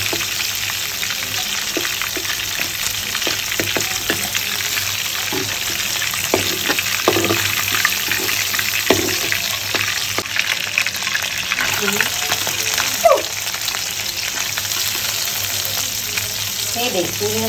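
Prawns fry in a pan with a steady, close sizzle and crackle throughout, broken by scraping stirs, with faint speech in the background.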